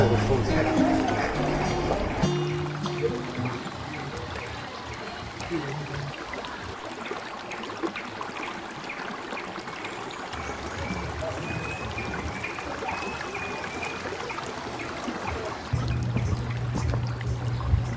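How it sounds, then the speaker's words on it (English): Gentle trickling water in Cusco, Peru runs steadily in the background while people talk intermittently over it. "the gentle sound of water trickling adds to the serene atmosphere"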